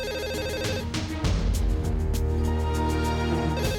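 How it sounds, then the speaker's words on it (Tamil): A telephone bell rings steadily and loudly in an office scene from a Tamil TV serial, its repeated metallic trill filling the room with no one answering. "சார், ரொம்ப நேரமாக ஃபோன் அடிச்சிட்டு இருக்கு."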